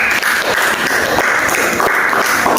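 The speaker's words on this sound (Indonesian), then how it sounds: "Oke, tepuk tangan dulu." A classroom full of students bursts into steady, dense applause that lasts the whole stretch, loud and close, with no voices on top.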